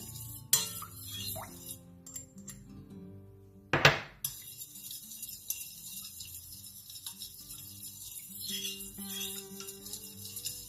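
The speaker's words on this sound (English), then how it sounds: "We're going to put our scent inside here and we stir well." A spoon stirs lemon scent into melted candle wax in a container, giving soft scraping and occasional light clinks against the sides, with one sharper knock partway through; no talk.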